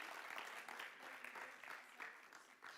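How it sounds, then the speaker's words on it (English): Audience applause for a PhD student, Katerina, at a project coordination meeting, steady dense clapping throughout at moderate level with no talk over it. "Big applause to Katerina"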